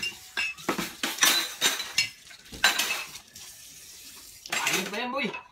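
Dishes being washed by hand, plates and cutlery clinking and clattering in bursts near the sink, with running water, and a voice briefly heard between the bursts.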